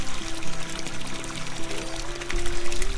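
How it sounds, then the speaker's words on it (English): Water flows freely and steadily, a continuous close rushing wash with a few faint tonal threads running through it. It swells slightly louder toward the end, and no voices are heard. "We hear these sounds, see the water moving freely, flowing freely."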